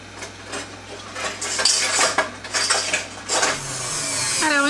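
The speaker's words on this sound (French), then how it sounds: "Je vais mettre les œufs avec le sucre, l'huile. Et je vais tout mélanger jusqu'à ce que ça devienne mousseux." Eggs, sugar and oil are whisked in a bowl, with quick uneven metallic clinks and scraping taps against the sides building to a steadier, faster beat near the end.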